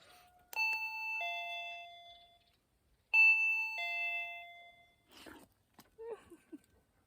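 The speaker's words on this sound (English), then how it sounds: "I think that was a pretty good doorbell." An electronic doorbell on a Minecraft-style gate sounds twice after a button press, each time a clear two-tone ding-dong that rings out, followed by faint shuffling and small clicks.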